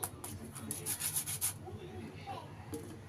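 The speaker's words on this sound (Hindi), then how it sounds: "तो मैं सबसे पहले आपको एक स्प्रिंग रोल काट के दिखाती हूँ" A knife saws through a crispy fried chicken spring roll in quick, quiet, close crunching strokes that fade into softer scraping.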